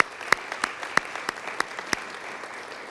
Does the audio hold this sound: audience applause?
yes